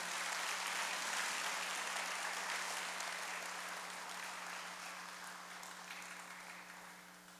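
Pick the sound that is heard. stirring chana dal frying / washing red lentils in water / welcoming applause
welcoming applause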